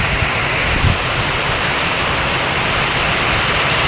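Heavy rain pours down while runoff water flows along a street, a loud, close, steady roar of dense hiss with no pauses and no voices.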